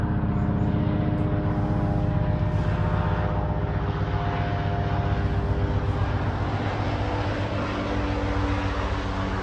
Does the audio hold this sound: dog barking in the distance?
no